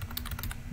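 Computer keyboard typing while a description is entered on a web project, a quick burst of about six close keystrokes over a steady low hum, with no talking.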